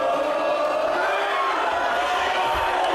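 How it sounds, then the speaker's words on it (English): Sellout crowd at a live wrestling bout in Barking, London, roaring and chanting loudly throughout, a dense continuous wall of massed voices with no clear break. "finish him is yet again the chant from this absolute sellout crowd"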